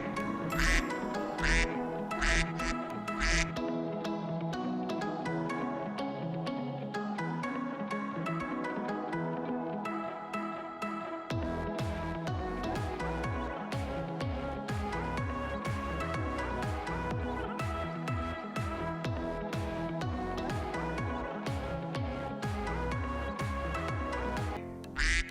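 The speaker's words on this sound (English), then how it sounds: "Duck." A duck quacks again and again in a steady, loud series that runs the whole time over a busy musical backing, with no talking.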